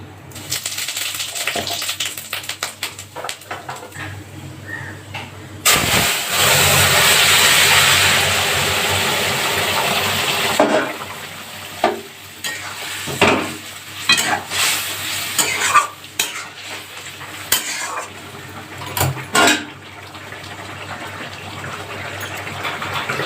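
Radhuni spice tempering hits hot oil with a loud burst of sizzling, then settles into a frying hiss broken by scraping stirring strokes and clatters of a spoon against the pan.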